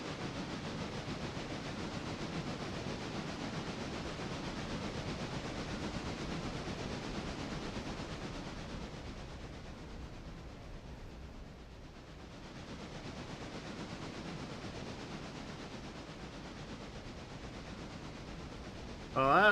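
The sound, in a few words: passenger train running in a railroad simulator video game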